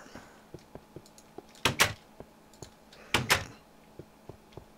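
Two heavy doors slide and thump in quick succession, each a double whoosh, amid faint regular clicking footsteps or taps.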